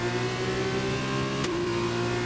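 A Formula 2 race car engine in the video game F1 2021 drones steadily at high revs, a continuous buzzing whine that shifts pitch briefly partway through, loud and close.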